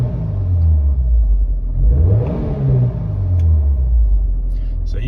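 A 2010 TopSpeed Motorsports Subaru STI with mufflers fitted, heard from inside the cabin, revved once from a low idle rumble up to a quick peak and back down, loud and close.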